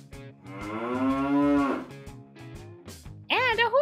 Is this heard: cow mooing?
yes